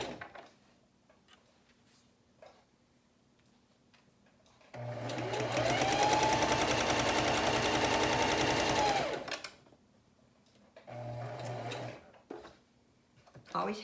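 A sewing machine stitches a 5/8-inch seam on a makeup bag, one loud sustained run of about four seconds, followed later by a shorter burst of stitching, with quiet handling noises between.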